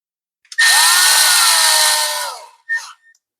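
A power drill drives screws into a fresh replacement carburetor on an Echo leaf blower, one loud continuous whirring burst of about two seconds, then a short second blip, close up with no talking.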